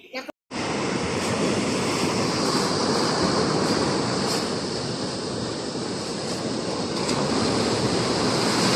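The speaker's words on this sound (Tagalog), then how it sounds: "siyempre lakas ng alon" Strong sea waves during the habagat monsoon crash and roar in a continuous loud wash of surf, with wind buffeting the microphone after a brief opening pause.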